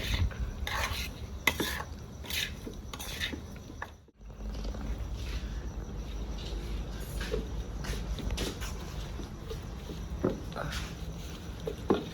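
Salted shredded cabbage being mixed by hand in a bowl for cabbage paratha filling, soft squelching, rustling and crunching in irregular close bursts, with a brief pause midway.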